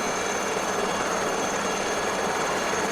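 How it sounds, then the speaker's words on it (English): An SA315B helicopter engine in Microsoft Flight Simulator drones steadily, a dense continuous turbine whine and rotor roar at constant loudness with no talking. "Lovely little helicopter"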